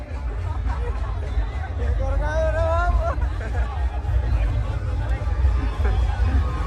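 A dense crowd murmurs and chatters all around at the Sati Mata yatra procession in Ramboris, with one voice rising briefly above the steady, close hubbub of people walking together.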